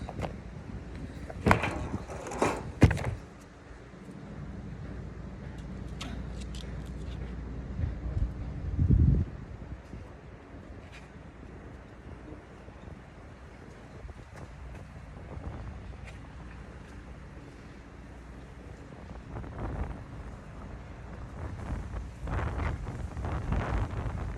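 Wind blows steadily outdoors, buffeting the microphone with low rumbling gusts, strongest near the start and again toward the end, with occasional faint knocks and rustles.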